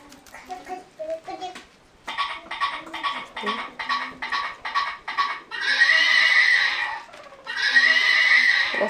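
Horse whinnies play from a device indoors, a series of rapid neighs followed by two long, loud whinnies, with someone talking briefly before them.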